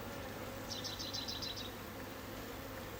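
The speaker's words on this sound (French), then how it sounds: "Les abeilles que l'on voit ici, ce sont des abeilles d'hiver" Winter honeybees hum steadily at a hive in the woods in Italy at the end of the season. The low, quiet buzzing runs throughout, and a brief string of high chirps comes midway.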